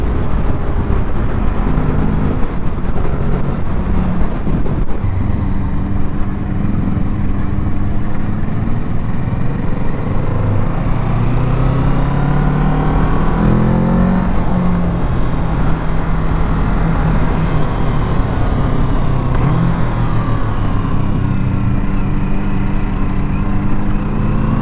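2022 Kawasaki Z650 motorcycle engine on a test ride, a loud steady onboard drone with shifting pitch as revs climb and ease, mixed with heavy wind noise.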